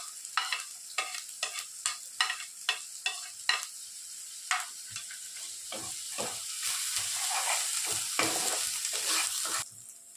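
Chopped green chili frying in a pan for Bengali egg chops: a run of sharp stirring clatters in the first few seconds, then a steady close sizzle that swells louder toward the end.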